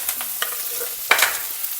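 Green chilies and ginger sizzling in a pan with mustard seeds and dals, a steady close crackle with a couple of sharp stirring scrapes.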